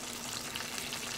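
Ocean perch fillets frying in a pan, a steady dense sizzle and crackle of hot oil, close and continuous with no pauses.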